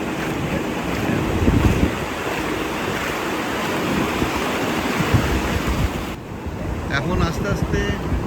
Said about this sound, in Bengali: মন্দারমণির সমুদ্রে কিন্তু খুব ভালো ঢেউ আছে